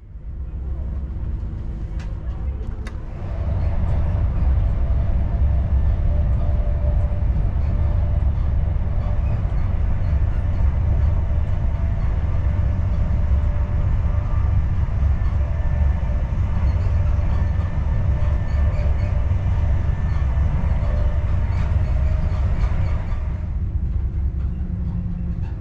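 Onboard an HST high speed train running toward Cornwall, a heavy low rumble of wheels and engine builds in after a few seconds and holds steady and loud, with faint clicks over the track.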